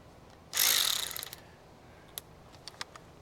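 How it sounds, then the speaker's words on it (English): An East Volt electric ratchet spins for about a second in a loud, rapid whirring burst on a bolt of a 1980 Honda CT110's auxiliary tank. A few faint clicks follow in the quiet afterward. "My trusty East Volt ratchet."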